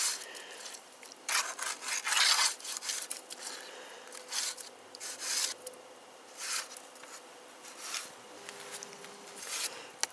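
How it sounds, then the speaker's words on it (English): Mud and dirt are rubbed into the magazine tubes of a UTS-15 shotgun, making intermittent gritty scraping and rasping bursts, fairly close and moderately loud, with quieter pauses between strokes. "Putting mud, dirt, and grime into the mag tubes."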